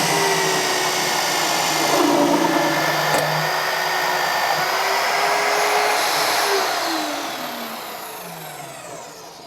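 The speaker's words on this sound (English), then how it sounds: "turn on the drill with the Easy Touch panel" A Magswitch MagDrill magnetic drill cuts a hole, giving a steady, loud motor whine with a grinding cutting hiss that holds for several seconds, then its pitch falls and the sound eases off near the end.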